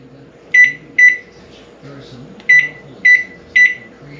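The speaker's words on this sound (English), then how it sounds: "Alright, they're in the microwave." Five sharp, high electronic beeps ring from a microwave oven's keypad, set in two quick bursts, as it is set to dry chips, over a faint low hum.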